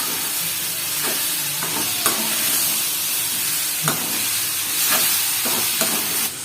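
Potato and capsicum stir-fry sizzles gently in a pan on low heat while a spatula scrapes and knocks against the metal in several sharp, irregular strokes, close and fairly loud.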